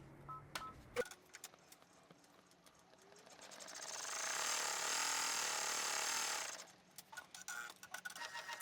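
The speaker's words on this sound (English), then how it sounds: "I'm going to pop it back in the machine, and we're going to stitch out the tack down for our clear" A home embroidery machine stitches out a tack-down line for a clear vinyl window on an in-the-hoop mason jar treat holder, a steady fast mechanical whirr that builds in the middle, with a few clicks before and after.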